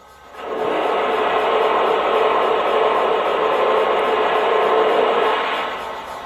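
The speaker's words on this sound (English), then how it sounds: "You've got the cylinder blowdown effect." A Lionel C&O Mallet model steam locomotive lets out its cylinder blowdown effect, a loud, steady rush of hissing steam lasting about five seconds that fades at the end. No one talks.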